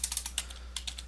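Keys on a computer keyboard tapped in a short, uneven burst of about a dozen crisp clicks, close and fairly quiet, with a brief pause midway and no voices.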